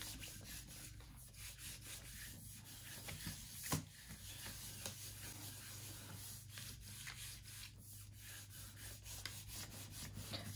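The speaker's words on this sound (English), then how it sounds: "Give it a good rub. Use my little flat lid here." A flat lid rubs over copy paper laid on a gel printing plate, making a soft, continuous scraping and brushing sound, close and quiet, with a steady back-and-forth rhythm.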